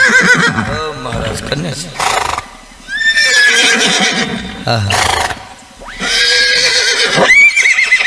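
A horse neighs and whinnies repeatedly in loud, wavering cries amid hoof clip-clop, with someone speaking over it during a staged religious storytelling performance.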